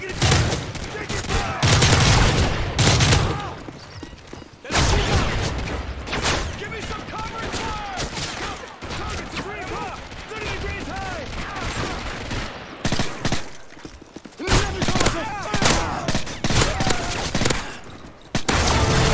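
Heavy video-game gunfire pounds a sentry gun, with dense bursts of rapid automatic shots and booms that keep going through most of the stretch, broken by a few short pauses.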